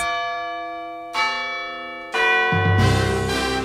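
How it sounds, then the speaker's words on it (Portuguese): Church bells ring out in successive strikes, each tone lingering and overlapping, building into a fuller, louder peal toward the end. "quando acontecia um incêndio, o alerta era dado pelos sinos das igrejas"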